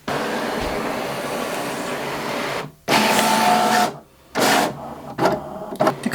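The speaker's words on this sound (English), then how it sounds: "The Cricut machine will read the registration marks before it starts cutting in order to locate the cuts." A Cricut cutting machine works through a notepad project, reading registration marks and then cutting the pieces, heard as steady mechanical whirring broken by a few short pauses and bursts of louder carriage and blade movement, close by with no talk.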